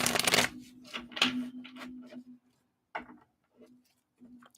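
Tarot cards shuffled by hand in a quiet room, with a loud riffle at the start, then shorter scattered flicks and taps of the cards that trail off into soft, sparse handling.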